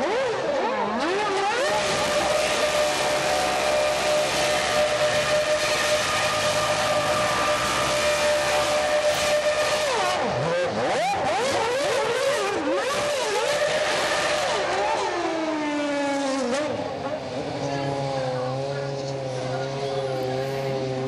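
A McLaren Formula One car at a city street racing event in Moscow, its engine screaming loud and high with sweeping pitch changes, then dropping to a lower revving tone as it passes and slows.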